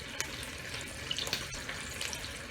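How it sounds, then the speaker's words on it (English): Hot water from boiled potatoes pours steadily into a colander in a home kitchen sink, a close hissing, splashing rush with small spattering clicks and no talking. "Dump the water, let them drain in my colander."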